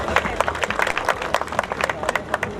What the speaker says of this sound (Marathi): मित्रांनो जोरदार टाळ्या वाजवायचे.